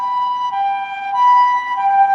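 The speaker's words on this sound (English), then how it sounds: "You've been hearing a lot of ambulances going by too recently." Ambulance siren on a Tokyo street, a steady two-tone wail holding clearly with no talk over it.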